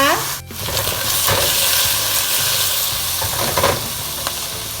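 Zucchini stir-fried with minced pork in a pan gives a loud, steady sizzle with scraping spatula strokes throughout, close up.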